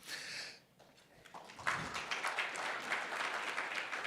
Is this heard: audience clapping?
yes